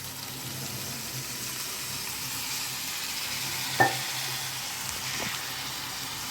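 Carrots, green peas and other vegetables sautéing in a pan for a white vegetable kurma, a faint steady sizzle with one brief sharp clink of a utensil partway through.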